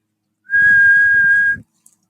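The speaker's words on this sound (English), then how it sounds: "To whistle means to make a sound by blowing air through your lips or teeth." A single steady whistled note holds for about a second, clear and close, with faint breathy noise beneath it.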